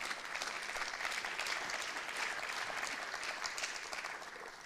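An audience in a hall applauds the daughter of writer Boualem Sansal at a freedom-of-expression event, steady sustained clapping from many hands at moderate distance with no voices over it.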